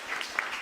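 Short burst of applause from a church youth worship congregation honoring its assistant group leaders, steady broadband clapping with no voices over it, brief and moderately loud.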